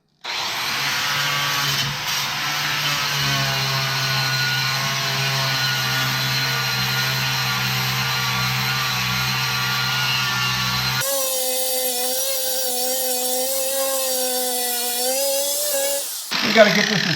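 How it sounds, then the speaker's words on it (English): An angle grinder fitted with a knotted wire brush scours rust from the floor pan of a 1966 VW Beetle, a loud continuous whine close by that shifts pitch partway through as the load changes. "the knotted brush is the way to go on a angle grinder"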